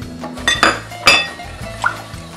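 Mango juice from a can and sugar go into a deep pot, with a few sharp metallic clinks and knocks of can and utensils against the pot over a low kitchen hum.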